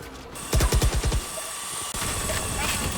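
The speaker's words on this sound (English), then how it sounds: "Deploying drone." Sova's recon drone deploys in the video game Valorant with a rapid series of whirring, propeller-like pulses, then a steady buzzing hum continues, with game effects around it.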